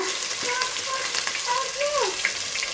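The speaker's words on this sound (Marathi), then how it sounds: "जिरे मोहरी टाकलेत कडीपत्ता घातला" Cumin, mustard seeds and curry leaves fry in hot oil in a home kitchen, a loud, continuous close-up sizzle and crackle while someone speaks over it.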